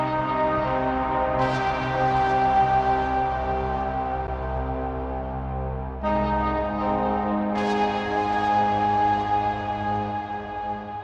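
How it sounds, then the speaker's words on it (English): Guitar from the Photosynthesis library layered with a Clavier sound-design piano, playing a simple floating melody of bell-like notes with long ringing decays, new notes entering every few seconds over a steady sustained bed; no talking. "the main melody is being provided by two instruments, the guitar from photosynthesis and also one of our sound design pianos from Clavier"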